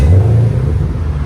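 A 2014 Chevy Camaro 2SS with a 6.2L V8 and Magnaflow exhaust rumbles nearby in a brief, loud, deep engine burst.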